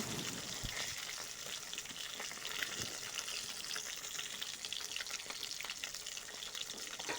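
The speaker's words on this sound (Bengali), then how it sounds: "তেল ভালো করে গরম হয়ে যাওয়ার পর মাছটাকে দিয়ে এপিট ওপিট করে ভাজা করে নেব" Steady crackling sizzle of grass carp fish frying in hot oil, continuous and fairly close, with occasional louder pops and spatters.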